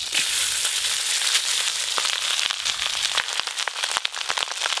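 Cooked rice tipped into hot ghee with cashews and whole garam masala spices in a pan gives a loud, continuous sizzling crackle, with sharp scattered pops and scraping, no talk.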